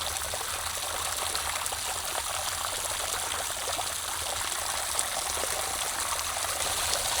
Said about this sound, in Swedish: Här har vi en dusch från en varm källa.